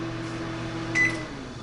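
An Amazon Smart Oven runs as a microwave at low power with a steady low electrical hum and fan drone, plus a brief higher whine near the middle, with no voices.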